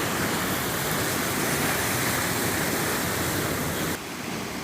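Water rushes steadily along a village canal in rural Punjab, a broad continuous flowing wash that holds constant and then drops slightly in level near the end, with no voices.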